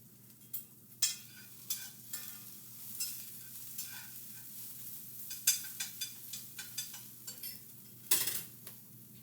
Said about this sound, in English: Let me stir these.